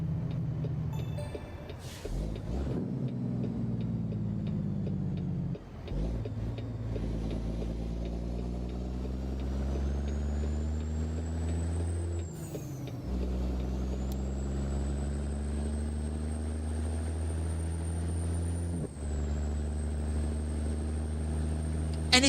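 Freightliner FLD120 truck engine in American Truck Simulator, a loud steady diesel drone that rises in pitch through each gear, with short drops and pauses at the shifts and a faint whine above it.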